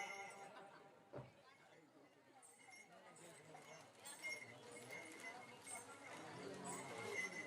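A horse whinnies and hooves clop over a busy background of voices and clinking, growing louder toward the end.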